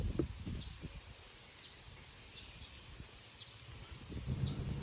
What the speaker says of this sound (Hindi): इस एरिया में घुसते ही पक्षियों की आवाज़ें आने लगती हैं